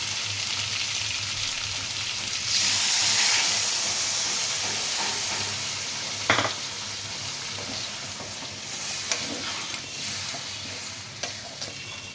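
Pumpkin and potato sizzle in a spiced masala as water is added for a prawn curry, giving a steady close frying hiss with a louder steam burst and occasional scrapes of a stirring spoon.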